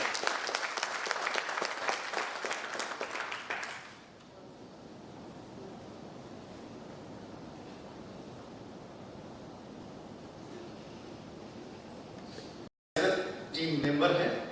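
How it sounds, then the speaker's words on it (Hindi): Convention audience in Bihar gives a speaker a hearty round of clapping that lasts about four seconds, then fades to quiet room noise before a short burst of crowd sound at the end. "पुनः इनके लिए जोरदार तालियां बजनी चाहिए"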